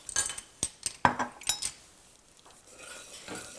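A spoon stirs half a teaspoon of vanilla into a hot caramel mixture for popcorn, giving a few sharp clinks against the pot over about two seconds, then only a soft, faint scraping.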